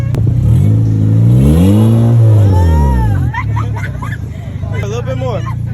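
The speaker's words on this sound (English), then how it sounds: "You go ahead and rev it." A turbocharged ninth-generation car engine running on E85 revs up and falls back in one long sweep, loud and close, then idles while voices talk nearby.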